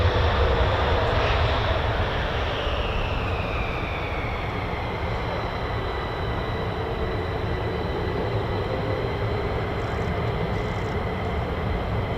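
F-35 fighter jets flying at RAF Lakenheath give a loud, sustained roar of jet engines with a slowly falling whine as they pass overhead, filling the whole stretch without a break.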